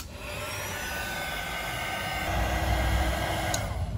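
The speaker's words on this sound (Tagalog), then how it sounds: "Tapos gagamitan ng hot air blower." A handheld hot air blower runs continuously up close, a steady loud whooshing whine that builds slightly in strength partway through, used on silicone during a budget solar setup build, with no talking.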